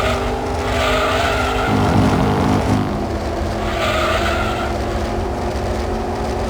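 Race car in Gran Turismo 2, a Le Mans-winning machine, with a loud continuous engine drone and tire squeal as it skids through corners, the engine pitch rising and falling.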